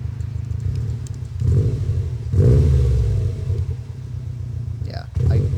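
A Subaru engine, either a stock 2022 WRX or a Stage 1 tuned VA STi, is blipped in a few short, small revs. Each one swells briefly over a steady idle rumble close by, and a voice speaks lightly over it.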